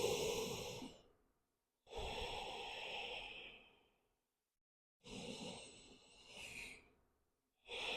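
Slow, deep breaths during a floor yoga core session: three long airy exhales in steady rhythm with quiet pauses between, close and clear with no talking.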